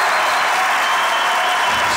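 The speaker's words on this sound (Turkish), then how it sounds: "Alkışlarınız Ahmet Mümtaz Taylan için" Studio audience applauding guest Ahmet Mümtaz Taylan on the comedy stage show Çok Güzel Hareketler 2: a dense, steady wash of clapping, loud and close, holding evenly throughout without pause.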